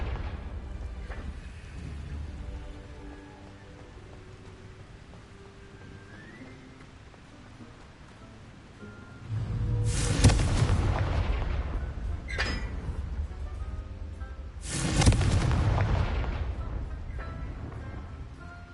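Confringo fire spell explosions in the game Hogwarts Legacy: two loud booming blasts a few seconds apart, each with a rushing burst and decaying rumble, over a low ambient bed.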